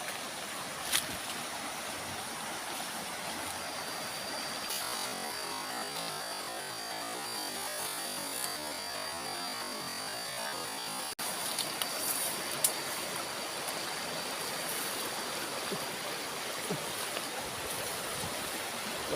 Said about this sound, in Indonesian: Wah teman-teman, airnya deras sekali ya.